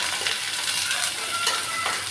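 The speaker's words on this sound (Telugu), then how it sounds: "ఇప్పుడు మిర్చి, కరివేపాకు అయితే యాడ్ చేసేసాను. బాగా మిక్స్ చేసుకోవాలి." Onions, chillies and curry leaves fry in a pan for egg rice, a steady close sizzle with soft scraping stir strokes over it and no talking.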